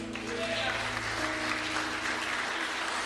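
A church congregation applauds during worship, a thick continuous wash of clapping from many people with a low hum and faint voices beneath it.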